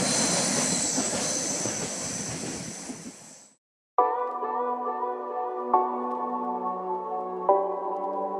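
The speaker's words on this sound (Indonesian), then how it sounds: "kita mau ke Kandelster ke atas dengan kereta api, dengan mobil dan kereta api" Car-carrying shuttle train heading up a Swiss mountain, a rushing roar of rolling wheels that cuts out briefly, then steady humming and squealing tones with a few sharp clanks.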